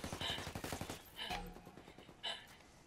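Rapid bursts of automatic gunfire in a squad-based shooter video game, loud, repeated shots in quick clusters with a couple of sharp single reports, with no talking over them.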